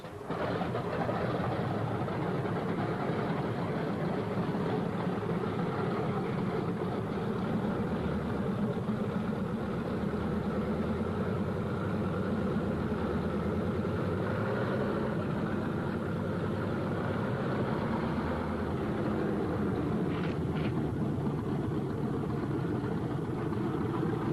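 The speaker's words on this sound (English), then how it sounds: "On the field, planes warm up. It's takeoff time for the Thunderbolts." Single-engine Thunderbolt fighter planes warm up their engines on an airfield before takeoff, a loud continuous low droning rumble that stays steady throughout with no voices.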